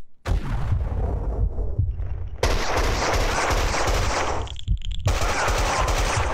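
Bursts of gunfire in the shooter game Max Payne 2, with heavy, rapid, close shots in dense volleys separated by brief pauses, loud and booming.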